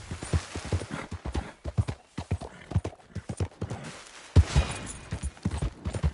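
Galloping horse hooves in Red Dead Redemption 2 beat a steady, quick clip-clop rhythm up close, with a few sharper thuds and a faint whistle-like tone midway; no speech.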